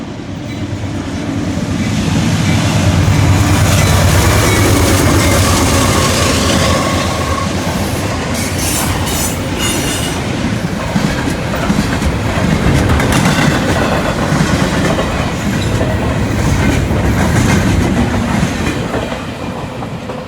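A Norfolk Southern freight train led by an H2 GEVO locomotive rolls past at Elkhart, a loud, continuous rumble with rhythmic clickety-clack of wheels and occasional metallic squeal, holding close and steady throughout.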